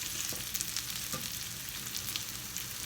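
Plant-based cabbage and spring onion fritters sizzle steadily in a pan, making a dense, loud, continuous frying hiss with small pops and no talking.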